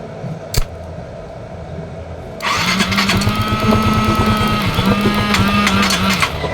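Yamaha Mio i 125 scooter engine cranks and starts after an ignition coil fix, then settles into a close, steady idle, preceded by a single sharp click.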